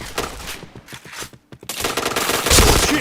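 Rapid automatic gunfire from the Point Blank first-person shooter, dense loud bursts that break off briefly mid-clip and then resume even heavier, with game effects layered in.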